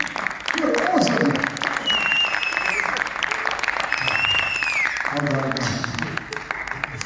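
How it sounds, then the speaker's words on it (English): An audience at a stage hypnosis show applauds a volunteer, a sustained clapping bed with a voice speaking over it in two stretches and some whistles cutting through. "Let's give a man a round of applause"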